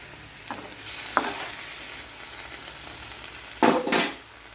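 Food frying in a pan with water added while cooking etti podi palya (dried shrimp stir-fry): faint background sizzle broken by a few short scraping stirs, then a louder burst of hissing and clatter near the end, with no talk.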